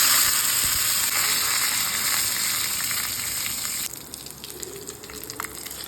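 Mustard seeds and curry leaves sizzle and crackle steadily in hot coconut oil, a loud, dense frying hiss that thins and turns more spattery toward the end, with scattered pops.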